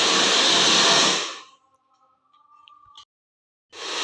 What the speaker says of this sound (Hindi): तो हम ऐसे करके अच्छे से बालों को ड्राई कर लेंगे और सीधे भी कर लेंगे।